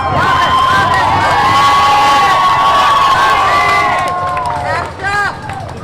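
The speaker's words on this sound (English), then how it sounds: "We're cheering for books right now, people." Protest crowd at a 'No Kings' rally in Belton cheering for books, loud sustained whoops and shouts from many voices that fade somewhat near the end, with a few scattered yells and babble after.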